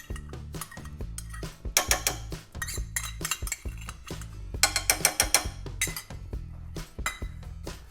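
Two-thirds of a cup of sour cream is folded into a pan sauce for pan-fried crappie with cream dill sauce, heard as a close run of irregular utensil scrapes, clinks and knocks against the pan.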